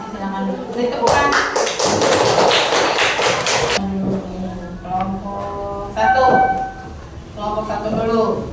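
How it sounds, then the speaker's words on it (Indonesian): Students in a classroom clap together for about three seconds in a dense, even burst, with a teacher talking before and after. "Silakan beri tepukan."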